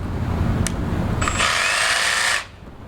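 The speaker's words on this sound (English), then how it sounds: "now it's time to bust out the jigsaw" Power jigsaw cutting a shape out of a board for an immersive store installation, starting with a brief click and then a steady high buzzing cut lasting about a second before stopping abruptly.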